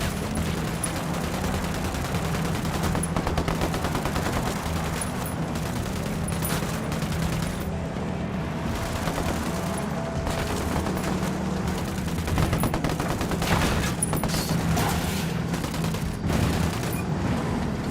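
Sustained gunfire erupts as a squad opens fire together in Tom Clancy's Ghost Recon Wildlands, a steady, dense clatter of shots with occasional heavier booms that holds for the full stretch.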